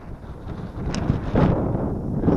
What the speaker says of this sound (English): So windy. That wind is so cold.